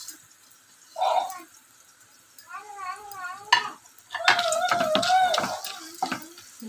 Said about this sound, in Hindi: इसे अच्छे से मिक्स कर लेंगे।